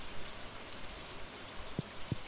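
Rain in the Stardew Valley video game, a steady soft hiss of falling rain with two brief low thumps near the end, faint and without voices.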